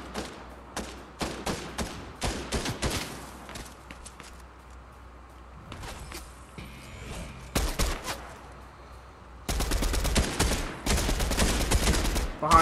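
Bursts of video game gunfire, sharp repeated shots and rapid volleys in clusters, with louder sustained firing near the end, plus scattered footstep-like thuds between shots.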